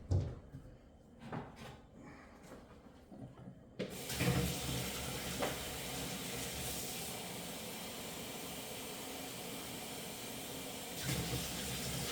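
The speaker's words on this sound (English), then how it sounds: "We'll throw another cup of water in there." Water poured into a pressure cooker while making New York cheesecake, a steady loud splashing pour starting after a few seconds of quieter kitchen handling and continuing to the end.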